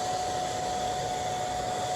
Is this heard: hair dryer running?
yes